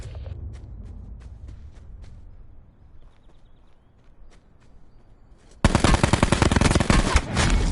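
Automatic gunfire in Call of Duty Black Ops 4 Blackout crackles first as scattered distant shots, then erupts into a sudden loud, sustained close burst of rapid fire at the end, with no talking.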